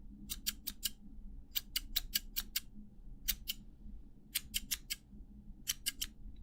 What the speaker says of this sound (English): that is enough scissors